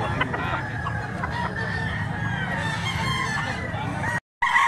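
A five-year-old stag rooster clucking and crowing close by, a steady run of vocal calls for about four seconds before a brief drop-out, with faint human voices in the background.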